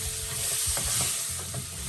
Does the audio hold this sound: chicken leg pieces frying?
yes